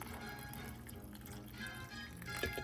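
Water pours steadily over beef in a slow cooker, a soft continuous trickle and splash that stays quiet and close with no talking.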